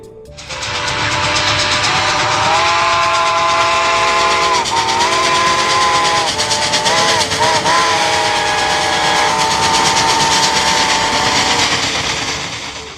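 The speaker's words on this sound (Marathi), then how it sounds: "आगगाडी रंगमंचावरनं धडधडत गेली" A steam train rumbles steadily across a theatre stage while a long, wavering steam whistle blows loudly over it, holding a chord for most of the passage.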